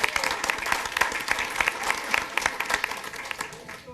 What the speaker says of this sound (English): let's have a round of applause for this wonderful group